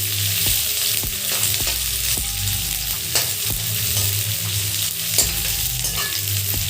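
Sliced onions frying in a pan, sizzling steadily up close while a spatula scrapes and taps against the metal at a fairly regular pace, no voices present.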